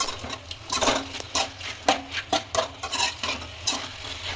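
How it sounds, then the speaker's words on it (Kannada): A spoon stirs and fries food with turmeric in a pan for a chicken gravy, heard as rhythmic scraping strokes against metal over a faint sizzle, close and steady, with no talking. "ಸೊ ಇವಾಗ ಅರಿಶಿನ ಜೊತೆ ಫ್ರೈ ಮಾಡ್ಕೊಳ್ಳೋಣ"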